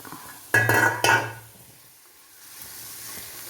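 A lid set over a pan of frying onions for egg roast: two close metallic clanks about half a second apart with a short ringing tail, then a quiet low sizzle.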